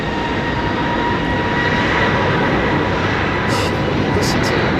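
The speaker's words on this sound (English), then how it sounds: "Listen to those engines." Airliner jet engines at London Heathrow Airport, a loud, steady broadband roar that holds throughout, with a few brief higher-pitched bursts near the end.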